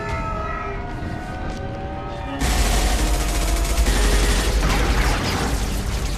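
Gunfire erupting in the video game Mass Effect 2, a loud wall of sustained shooting and blasts that suddenly cuts in after a tonal, siren-like opening stretch and continues densely to the end.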